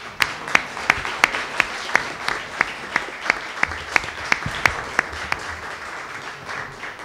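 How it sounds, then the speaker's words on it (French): Applause from a Quebec colloquium audience, a room full of dense, even clapping with a few sharp, individual claps standing out, holding steady throughout. "je vous demanderai de l'applaudir."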